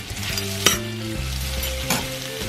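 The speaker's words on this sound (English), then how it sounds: "I'm gonna saute it for about 7 to 8 minutes until caramelize yung onions" Onions sauté in a pan for beef fajitas, a loud close sizzle that runs steadily with a couple of brief stirring scrapes and no talking.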